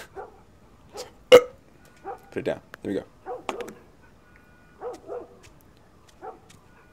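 Barks from a dog in The Last of Us Part 1, several short separate yaps spread across a few seconds, mixed with brief spoken lines from a person talking.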